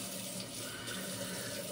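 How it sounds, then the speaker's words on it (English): Water pours steadily into a shaving lather bowl during a wet shave, a continuous close splashing trickle with no talk over it. "Just gonna add a little more water to the bowl here."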